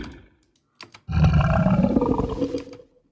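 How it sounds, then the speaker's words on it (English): A burp sample pitch-shifted down for goregrind music sounds as a deep, growling, roar-like belch lasting about two seconds, preceded by a few soft clicks. "I think that's a burp."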